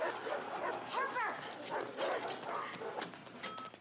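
A person in a TV show makes yipping, whimpering dog-like noises in quick uneven bursts, a voice imitating a dog, faint and mixed with other voices.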